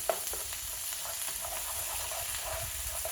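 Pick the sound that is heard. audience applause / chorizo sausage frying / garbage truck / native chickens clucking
chorizo sausage frying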